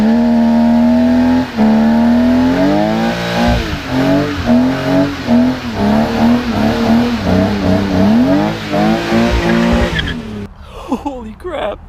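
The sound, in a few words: manual car standing burnout tire squeal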